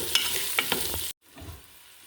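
Onions sizzle and fry in a pan with cinnamon, bay leaves, star anise and cloves for chicken majboosh. There are a few stirring scrapes over a loud, close hiss, then a sudden cut to a quieter, softer sizzle.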